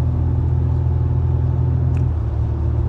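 A car cruising along a Dubai road at about 80 km/h gives a steady low engine and road rumble, with a continuous even drone and no voices.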